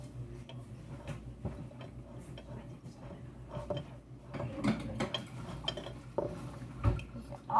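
Chocolate cupcake mix is stirred in a bowl for birthday cupcakes, giving soft scraping and irregular taps of a spoon against the bowl, close and moderately quiet, with faint background voices.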